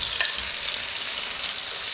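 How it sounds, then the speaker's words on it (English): Tofu cubes frying in oil in a pan, a steady bright sizzle with faint crackles throughout and no voices. "Got some oil in that one, and that one I'm going to be at the same time slowly cooking these tofu cubes off"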